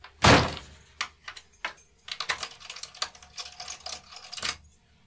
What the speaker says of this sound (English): Better lock the door, smiled Baz.